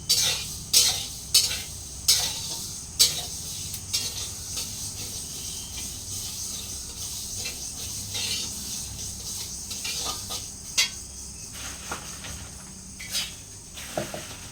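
Dried chillies stirred in a metal pan for a jujube pickle, giving a run of sharp scraping clacks at first, then a steady dry rustle and sizzle with scattered knocks, close and fairly loud, with no talking.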